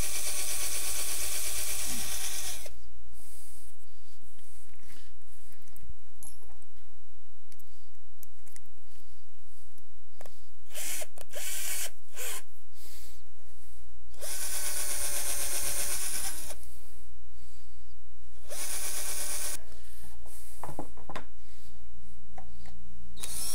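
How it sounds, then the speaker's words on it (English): Power drill boring pilot holes in wooden supports, several loud whirring bursts of a few seconds each, separated by quieter pauses and small clicks, close by with no talking. "I will be pretty much getting my pilot holes drilled in the supports at the same time."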